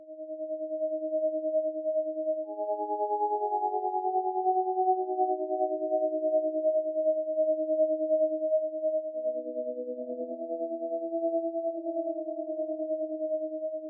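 Clean, sustained Omnisphere synthesizer tones hold steady chords, with pure sine-like notes shifting gently between pitches over a long, smooth passage.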